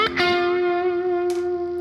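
A crunchy electric guitar run through Waves plugins with reverb: a sustained distorted chord ringing out and decaying with a reverberant tail, then a short scratchy strum near the end.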